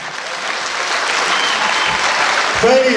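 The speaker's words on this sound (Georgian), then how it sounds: "დაუშვით ხელები დებიუტი შედგა უკვე და ეს ტაში თქვენია" An audience bursts into steady, loud applause for children's debut performance at a choreographic ensemble concert, dense continuous clapping filling the hall, with a voice speaking over it near the end.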